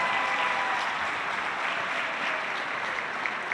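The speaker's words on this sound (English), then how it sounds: "one more round of applause for all of our students" An audience at a school awards breakfast applauds the students, a soft, even patter of many hands that stays fairly distant and steady throughout, with no speech over it.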